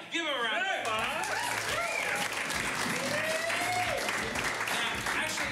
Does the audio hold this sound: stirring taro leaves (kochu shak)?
no